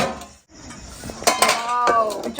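Pots, a kadai and plastic bowls clink and clatter as they are handled in a kitchen, with a few sharp metallic knocks and a voice underneath.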